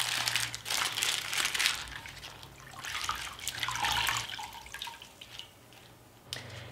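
Crumpled baking paper is wetted with tap water for covering marinated meat, giving a steady wet crinkling and rustle with soft splashing and running water, close and moderately loud throughout.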